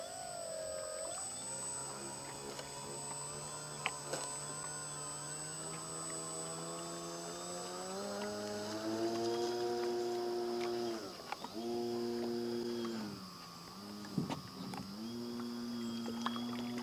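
A Horizon Hobby Apprentice STS RC trainer plane flies in gusty wind, its electric motor whining steadily and shifting pitch up and down as the throttle changes, fairly faint and alone.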